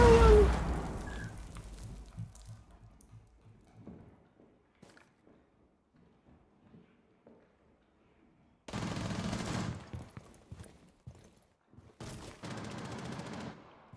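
Gunfire in Rainbow Six Siege: an opening loud burst of automatic shots, then scattered quieter shots, followed by two later stretches of sustained rapid fire, close and sharp, with quieter gaps between.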